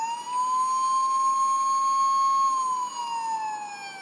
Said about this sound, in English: he will do lights and sirens.